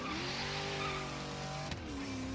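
Burnout from a drag-tuned street car in Forza Horizon 3, with a loud sustained tire squeal and revving engine harmonics that break off briefly and then resume, close and continuous.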